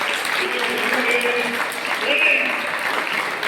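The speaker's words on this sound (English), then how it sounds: "So let's have a big round of applause." Steady applause fills a hall at the inauguration of a literary fest, an even wash of clapping from a sizeable audience that holds level throughout, with a few faint voices mixed in.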